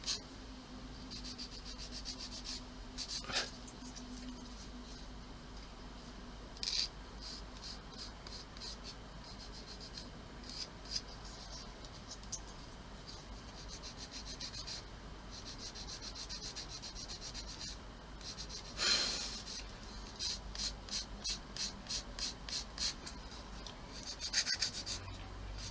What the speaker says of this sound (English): Get rid of the flash.